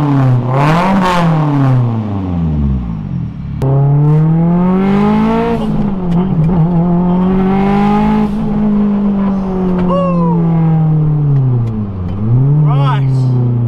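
A 450 hp all-wheel-drive converted Mitsubishi Mirage engine revs loud and close, rising and falling through repeated sweeping pulls with a brief dip near the start, filling the whole stretch with no voices.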